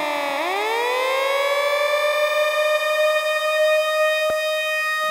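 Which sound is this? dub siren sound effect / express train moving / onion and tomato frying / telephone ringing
dub siren sound effect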